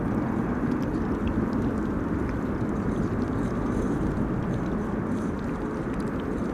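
United Airlines Boeing 777-200 arriving at windy Amsterdam Schiphol Airport, a steady broadband jet roar that holds at constant loudness throughout, distant and unbroken, with no voices.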